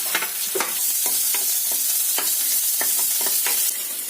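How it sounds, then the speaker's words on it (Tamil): Chopped garlic, then onion, frying in hot oil in a pan for a spicy vegetable Maggi: a steady, bright sizzle runs throughout, broken by regular scrapes and taps of a stirring spoon. "ஆயில் சூடாயிருச்சு. ஃபர்ஸ்ட் பொடியாக வெட்டினா பூண்டு போட்டுக்கலாம்."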